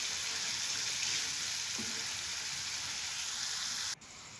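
Okra (bhindi) sizzles steadily in a hot pan, a dense, continuous frying hiss that holds evenly throughout, with no voices, then dips slightly near the end.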